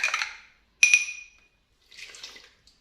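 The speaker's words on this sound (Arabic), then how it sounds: "باش نضيف لها الماء الدافي." Warm water poured from a glass into dough ingredients in short splashy bursts separated by pauses, with a faint clink of glass, close by and with no talking.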